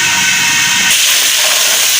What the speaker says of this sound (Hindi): घी भी आपको पता थोड़ी देर गर्म होने में लगता है, तो गर्म हो रहा है, आवाज़ आप सुन रहे होंगे।